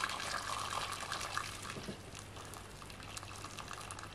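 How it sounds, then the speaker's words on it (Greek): Hot water poured into a pot of potatoes, a steady close liquid gush and splash filling the pot throughout, easing slightly toward the end. "Θα βάλουμε καυτό νερό να καλυφθούν οι πατάτες."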